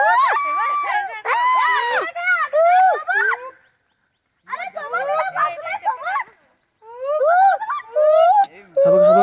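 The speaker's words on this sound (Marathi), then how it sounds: "हे माकड कसं ओरडतंय रे माकड कसं ओरडतं" Several monkeys screaming in a wild forest setting, shrill wavering cries in loud overlapping bursts, with two short silent pauses between the bouts.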